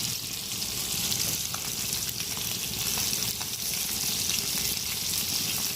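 A rib eye steak frying in a hot pan, cooked to medium: steady loud sizzling and crackling hiss with occasional sharper pops, continuous from start to finish with no voices.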